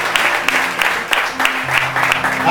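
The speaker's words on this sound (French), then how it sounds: "On acclame le Seigneur" Church congregation applauding during a Sunday worship service, loud steady clapping from a crowd with a voice speaking over it.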